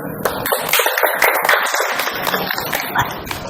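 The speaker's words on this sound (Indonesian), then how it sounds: "Beri tepuk tangan." A small group in a classroom claps briefly, scattered, uneven hand claps that come close and fairly loud with no clear talk.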